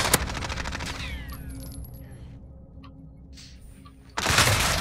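Gunfire in a 3v3 Search and Destroy match of Modern Warfare: a sharp shot opens a short rattling burst, quieter echoing stretches follow, then a loud dense volley erupts at the end.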